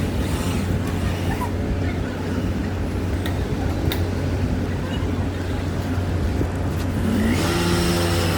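A two-wheeler is taken out and ridden from a hospital on a hot day, its engine droning steadily and fairly close with road rumble, while voices speak over it.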